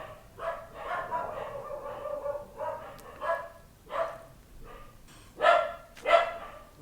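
Several dogs bark in bursts, a loud uneven volley with yips, the barks spaced every second or so and growing sharper and louder toward the end, with no talk over them.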